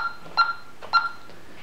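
Honeywell alarm keypad sounding two short electronic beeps about half a second apart while the alarm is being armed, close and clear against a quiet room.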